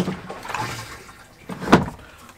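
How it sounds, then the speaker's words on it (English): A camper RV toilet flushes with a brief rush of water and a gurgle, followed by a short, louder clunk of the flush valve, heard up close in a small space. "And I'm going to flush."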